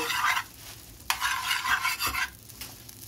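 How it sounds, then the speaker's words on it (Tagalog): Star margarine sizzles in a hot pan while being stirred for a tomato and egg dish, a close crackling hiss broken by scraping bursts from the utensil. "ilagay ko na guys ang aking star margarine"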